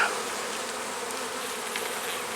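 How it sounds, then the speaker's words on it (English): Dense, continuous buzzing of many honey bees in an opened hive box full of frames, close and steady throughout with no voices. "Oh, lots of bees."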